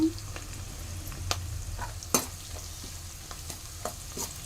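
Onions fry in a pan until golden, with a soft sizzle under scattered stirring clicks and scrapes, close and steady.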